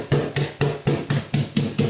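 Rapid, even tapping of a rolling pin on butter over puff pastry dough for a mille-feuille, about eight sharp close knocks in steady rhythm.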